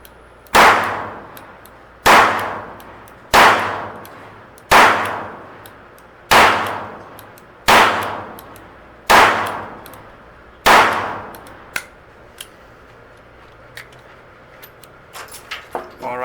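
Eight sharp shots from a Smith & Wesson Model 43C .22 LR revolver at an indoor range, spaced evenly about every 1.4 seconds, each with a ringing decay, followed by quieter clicks and handling noise.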